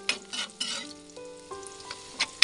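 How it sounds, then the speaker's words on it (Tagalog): Garlic frying in oil in a pan, a steady close sizzle broken by a few soft stirring scrapes and light utensil clinks, with no voices. "Gisingin muna natin yung ating bawang. Tayo natin siyang mag-golden brown bago natin ilagay yung ating sibuyas."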